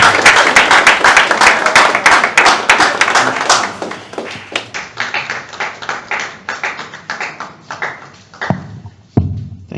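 Audience clapping for Lawyer James Enu, an NDC parliamentary candidate, at a book launch: dense applause that thins after four seconds into scattered individual claps, a few last sharp claps near the end.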